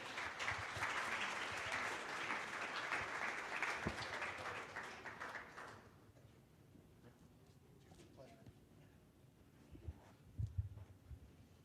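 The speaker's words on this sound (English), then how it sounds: "How about a round of applause for Steve and Caden?" Audience applause for Steve and Caden at a FULU tour stop in Wisconsin, a loud burst of clapping that fades out after about six seconds, followed by quieter room sounds and scattered voices.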